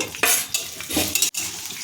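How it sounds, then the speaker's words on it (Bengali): Bursts of sizzling and scraping as ginger and chillies are stirred and sautéed in a hot pan, loud and close, with brief pauses between strokes. "এরপর আমি দিয়ে দিচ্ছি আদা 2 ইঞ্চি মতো আর কিছু লঙ্কা, এটা আমি হালকা সতে করে নেব।"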